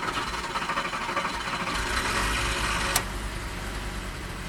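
A Volkswagen Golf Estate 2.3 V5 engine cranks and struggles to catch, a steady uneven churning that swells briefly with a sharp click near the end, heard up close with no talk.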